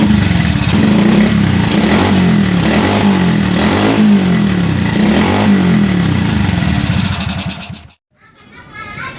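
A motorcycle, just restored and repainted with Diton Chrome, runs with a loud, uneven close-up engine rumble and revving while people talk and children's voices sound nearby. The engine cuts out near the end, then a quieter sound resumes.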